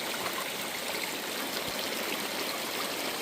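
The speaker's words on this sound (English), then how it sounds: "Well, there's a bunch of running water." A stream of running water rushes steadily on a hiking trail, a loud, dense, continuous hiss with no speech.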